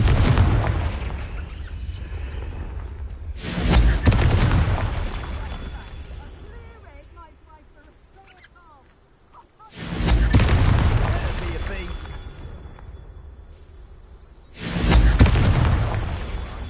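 Confringo fire spell blasts in the video game Hogwarts Legacy, with three loud, deep booming explosions spaced several seconds apart, each rumbling and fading slowly, and brief talk and quieter game sounds in between.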